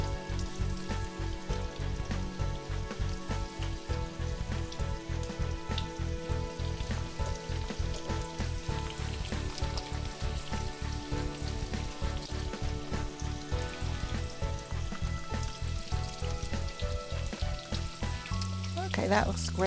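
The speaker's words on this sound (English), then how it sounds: "I'm just going to fill the skillet with 1/2 inch thick sliced russet potatoes" Thick-sliced russet potatoes fry in a skillet with a loud, constant crackling sizzle, dense and close, overlaid with a steady rhythmic pulsing beat of background music throughout.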